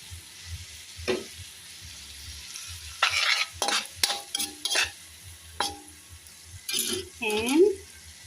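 Pork being sautéed and stirred in a pan for ginataang puso ng saging, with intermittent scraping and clattering strokes over a low sizzle, close and fairly loud.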